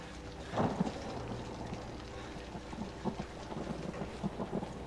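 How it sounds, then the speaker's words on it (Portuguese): Rain falls in the horror video game Outlast, a steady soft wash of droplets with a louder patter burst early on, fairly faint and continuous with no voices. "Barulho de, de chuva."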